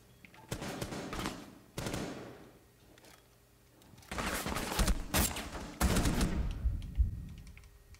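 Bursts of rapid gunfire punch through a wall in the tactical shooter Rainbow Six Siege, coming in several separate volleys with quiet gaps between them, sharp and fairly close.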